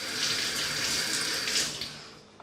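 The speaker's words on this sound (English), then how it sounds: "just rinse the knife under water, under cold water." Cold water runs from a kitchen tap as a knife is rinsed, a loud, close, steady rush that fades out near the end.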